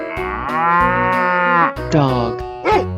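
Cow mooing in a 3D animal video game: a long sustained moo followed by two shorter calls, loud and close over game background sound.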